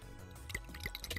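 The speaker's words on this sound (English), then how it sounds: "Let's go ahead and pour in the blue liquid now." Blue liquid pours in the video game Zero Escape 999, a short run of close wet drips and squishy plops with no talk over it.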